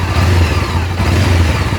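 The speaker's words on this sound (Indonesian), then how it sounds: "Coba sampean dengarkan suara mesinnya. Mesinnya cukup unik Mas Bro. Jadi dia ada semacam desingan." Honda CBR500R motorcycle engine revving loudly up close, with a steady low throb under a distinct high whine that rises and holds throughout.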